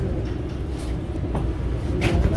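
Inside a commuter train bound for World Trade Center at the Harrison stop: a low, steady rumble fills the carriage, with a couple of faint clicks and a rising swell of noise near the end.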